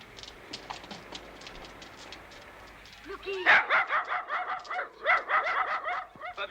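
Several dogs bark repeatedly on a Paris street, loud and close, in a busy run of overlapping yaps after a murmur of background noise and clatter.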